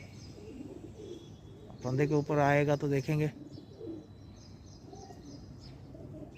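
A wild pigeon coos softly near a rooftop trap, low murmuring calls sitting faintly in the background while someone talks over them for a stretch in the middle.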